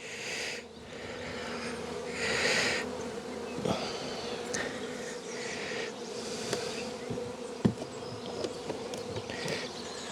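Honeybees hum in a dense, steady buzz during a nuc transfer, with occasional close passes and a few soft knocks and clicks from handling frames.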